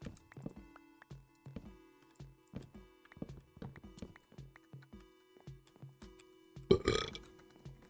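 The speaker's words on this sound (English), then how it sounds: "Wow, that was a burp and a half." A run of regular, soft chomping sounds from the video game Minecraft builds into one loud, drawn-out cartoon burp near the end.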